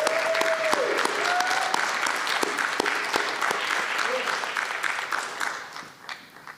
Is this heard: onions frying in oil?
no